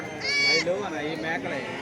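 Several big sheep bleat close by at a livestock market in Narketpally, with a couple of wavering cries heard over people talking nearby.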